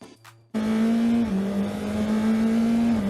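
A GB4 race car runs flat out over the start-finish line at Donington Park, its engine snapping in after a brief quiet moment into a loud, steady high-pitched drone that dips slightly with a gear change and holds close.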